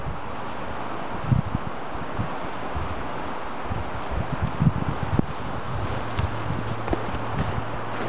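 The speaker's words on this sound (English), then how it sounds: "it's got wind and all that good stuff" Wind blowing outdoors at an overnight camping spot, a steady broadband rush buffeting the microphone with occasional gusts and low rumbles, no talking.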